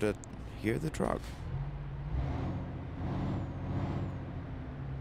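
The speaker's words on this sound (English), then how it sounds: "Let's hear the truck." In Euro Truck Simulator 2, a 2020 MAN TGX truck gives sharp air brake hisses and bursts at the start, then settles into a low, steady idling rumble.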